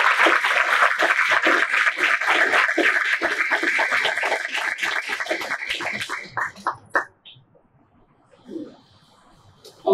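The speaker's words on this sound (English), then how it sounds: "please refrain from applauding after each speaker" Audience applause at a school district board meeting, a steady patter of clapping for about seven seconds that thins to a few scattered claps and then quiet.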